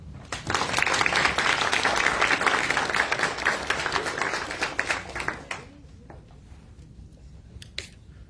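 Audience applause welcoming the First Lady of Sierra Leone at a university development center event, loud sustained clapping from a crowd that swells quickly, holds for about five seconds, then thins to scattered claps.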